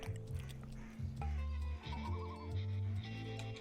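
A cow in the video game DeathSpank lets out a drawn-out, wavering bleat-like moo, fairly loud and alone against a soft musical backdrop.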